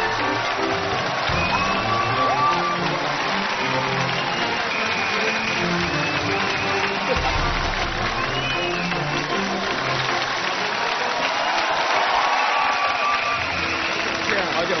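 A studio audience at the CCTV lecture show Kaijiang La applauds in a sustained, dense wave of clapping as history professor Yi Zhongtian is welcomed onto the stage. The clapping stays loud for the whole stretch, with music or voices mixed in.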